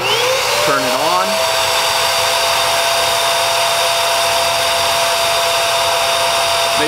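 The vacuum of an Okki Nokki record cleaning machine runs steadily and loudly throughout as it dries a vinyl record. A brief rising whine is heard near the start.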